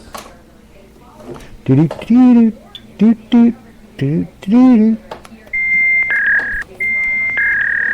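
Someone talks, then a repeating electronic phone ring in two-tone bursts starts and continues steadily after the speech ends.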